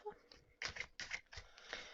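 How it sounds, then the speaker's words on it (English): A deck of slippery oracle cards is shuffled by hand in several quick riffling, sliding bursts with short pauses between them, close up and fairly quiet. "This is the kind of shuffling I'll be doing, but they shuffle well."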